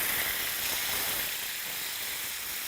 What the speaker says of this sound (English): my chops are sizzling away